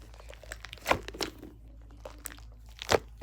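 A crunchy squishy toy is squeezed by hand, giving a few crisp, crackling crunches at irregular intervals over a quiet background, with no talking.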